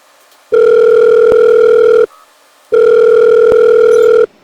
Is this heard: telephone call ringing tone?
yes